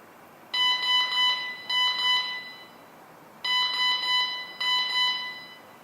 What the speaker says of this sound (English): Now I can press this to silence that alarm.